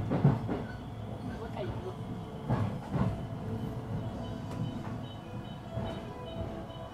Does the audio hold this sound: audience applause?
no